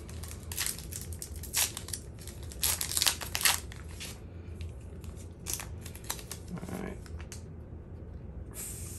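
A baseball card pack from a hanger box is crinkled and torn open up close, with bursts of crackling foil wrapper and rustling, then quieter handling.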